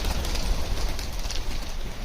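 Pigeons coo softly outdoors on a cold day, a gentle murmuring over steady background noise with no talking.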